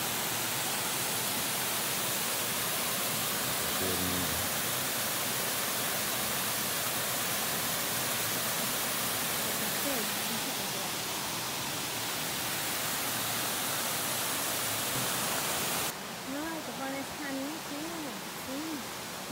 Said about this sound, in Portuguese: Primeira cachoeira da trilha aí, rapaziada.